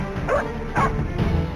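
Stray dogs on a street in the Nalasopara and Vasai area bark in a few sharp yips and whimpering barks, close and fairly loud, spaced at short uneven intervals.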